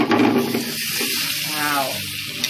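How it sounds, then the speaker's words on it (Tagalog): Marble potatoes drop into hot butter in a pan, a close, continuous sizzle with some faint sounds of movement over a few seconds. "Lagyan na natin itong marble potatoes."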